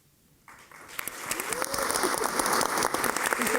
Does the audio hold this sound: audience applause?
yes